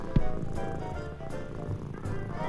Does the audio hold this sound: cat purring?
yes